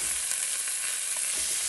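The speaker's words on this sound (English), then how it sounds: "Continue to stir it so it doesn't stick." Duck frying in a pot over very high heat as its fat renders, a dense, even sizzle filling the short moment with faint scrapes of stirring underneath, close and constant.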